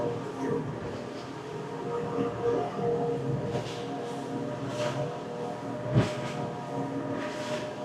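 Three 300hp Yamaha outboard engines on a Regulator 34 boat roar at full throttle in a steady droning hum, with wind and water buffeting across the whole stretch and a sharp thump near the end.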